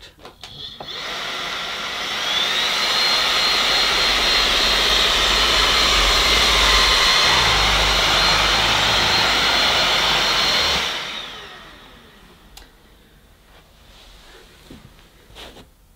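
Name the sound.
Bosch Unlimited Serie 6 cordless vacuum running on turbo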